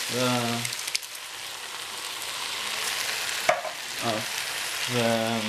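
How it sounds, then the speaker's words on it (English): A whole pot of chopped, peeled, skinless tomatoes simmers on a cooking stove, giving a steady close sizzling bubble throughout, with a few brief voiced murmurs breaking in near the start and end. "just have the whole pot simmering"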